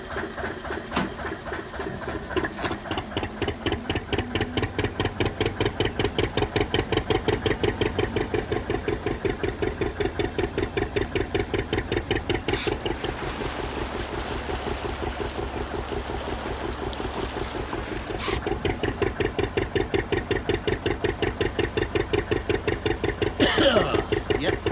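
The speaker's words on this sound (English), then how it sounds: "bit of black smoke because we're working the old engine hard" An old boat engine is worked hard and runs with a steady, rapid, loud mechanical chugging pulse, with water and wind noise behind it and no speech.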